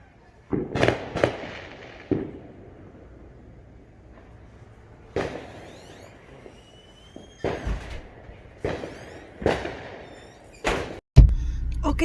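Fourth of July fireworks bursting at night, a series of sharp booms and cracks spaced irregularly, some loud and close, others softer, with a heavy thump near the end.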